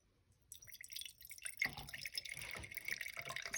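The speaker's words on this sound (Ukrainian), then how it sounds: "І сюди наливаю тепер 100 грам." After a moment of near silence, 100 grams of hop tincture starts pouring and splashing into a jar for a sourdough starter, a steady trickling gurgle that continues to the end.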